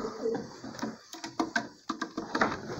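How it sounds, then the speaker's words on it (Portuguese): Pigeons of an old lineage coo in a loft, with soft murmuring calls and a series of short, fairly close bursts repeating toward the end. The birds are fairly faint, and no one speaks. "tem pombinha aí já doido para entrar para dentro aí"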